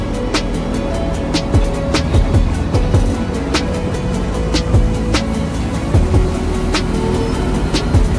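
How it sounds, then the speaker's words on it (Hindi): Heavy vehicles, including big trucks, grind along the Keshkal Ghati mountain road in a steady, loud rumble of engines and traffic, with passing vehicle noise and occasional horn-like tones throughout. "बड़ी बड़ी ट्रकें चल रही हैं।"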